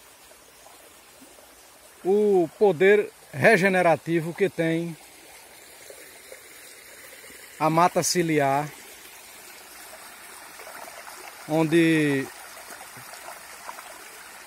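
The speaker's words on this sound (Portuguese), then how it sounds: "o riachinho correndo, fraco, mas está correndo" A small, weak stream runs through regenerating riparian forest at Fonte Grande, a soft, steady trickle heard faintly beneath someone speaking at intervals.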